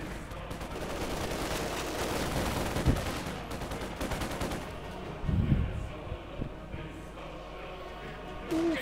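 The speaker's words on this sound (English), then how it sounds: "Ooh, 50 caliber" A .50 caliber machine gun firing in the World War II strategy game Company of Heroes 2, sustained rapid automatic bursts layered with heavier thumps, loud at first and easing off toward the end.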